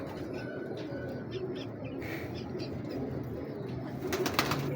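Pigeons coo softly inside a breeder's loft among other birds, their low murmuring calls layered over a dense, continuous background of rustling and chirps, with a brief flutter of wings near the end.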